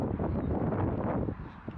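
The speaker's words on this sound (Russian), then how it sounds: "Тут так ветрено" Strong wind buffets the microphone, producing loud, low rumbling gusts that roar continuously and ease slightly near the end.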